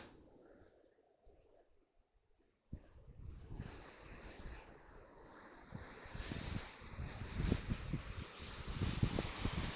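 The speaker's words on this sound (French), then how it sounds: "aujourd'hui il y a du vent, énormément de vent" Wind gusts roar and buffet the microphone after a quiet start, growing louder and rougher, with a surf-like rush underneath.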